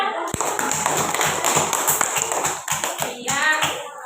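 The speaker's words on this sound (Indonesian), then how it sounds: "Ya, beri tepuk tangannya." Students in a classroom clap after a group presentation, a small group's uneven, fairly close hand claps with distinct individual strikes, plus some background voices.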